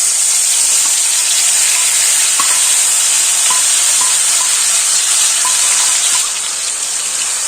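Onion paste fries in a pan of oil with dried red chillies and asafoetida, a loud, continuous close sizzle with faint stirring ticks, easing off slightly at the end.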